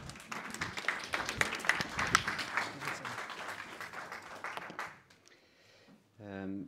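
Audience applause after an introduction at a talk in Toulouse: dense, sustained clapping for about five seconds, then fading out before a voice begins speaking.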